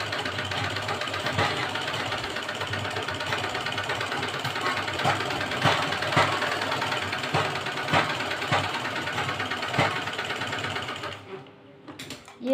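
A sewing machine runs steadily, stitching blouse fabric in a continuous whirring, knocking rhythm, close and loud. It stops near the end, leaving a brief quiet tail.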